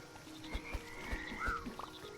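Frogs croaking in the Mudborne video game, a few short croaks and chirps over a low ambient game backdrop, with soft plucked tones mixed in.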